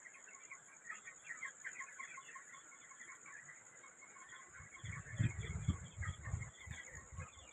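Around 115 chickens cluck softly and steadily in a poultry shed lit through the night by a bulb, with a steady high hum behind them and a short rise of louder low-pitched rustling near the end.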